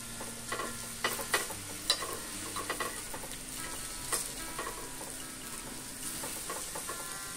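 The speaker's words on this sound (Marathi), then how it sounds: "आता हे असं ब्राउनिश कलर आलेला आहे साखरेच्या पाकाचा, तर आपण त्याच्यामध्ये आता ती उलटी घोळवून घेऊया।" Sweet potato slices being stirred and turned in hot caramelized sugar syrup in a pan, giving a steady soft sizzle with scattered scraping and clinking strokes, close and alone without talk.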